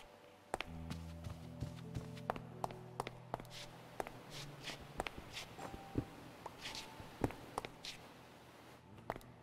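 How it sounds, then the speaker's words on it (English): Scattered footsteps from several unseen figures in a medieval-style Minecraft village, soft irregular taps and scuffs at varying distances, mostly faint with a few sharper nearby steps and no talking. "I hear tons of footsteps though,"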